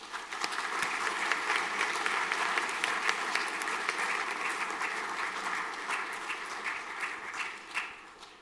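Applause from a school final assembly audience, dense steady clapping for students announced as prize winners, loud and sustained throughout before tapering slightly at the end.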